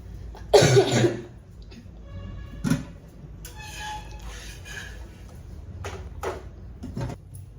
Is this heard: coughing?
yes